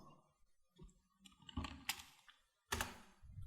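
A few computer keyboard keys are pressed for a Ctrl+N shortcut, sparse soft clicks and thunks close by in a quiet room, with one firmer press near the end.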